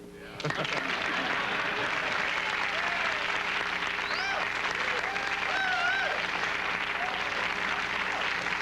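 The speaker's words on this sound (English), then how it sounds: "Little applause never hurt." Steady, sustained applause from a 1978 TV talk show studio audience, many hands clapping continuously at an even level throughout, with faint voices and whistles mixed in.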